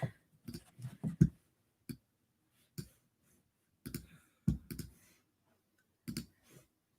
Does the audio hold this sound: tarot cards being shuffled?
yes